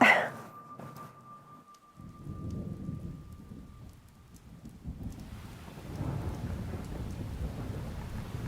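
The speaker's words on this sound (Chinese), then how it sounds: "哗啦啦啦，下雨了。" Steady rain pours down during a thunderstorm, with a low rumble of thunder rolling beneath the hiss from about two seconds in. The downpour swells louder toward the end, with no voices.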